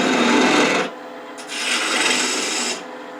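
Lathe tool cutting away wood on a spinning top blank, a loud continuous rasping shave in two bursts separated by a brief quieter gap.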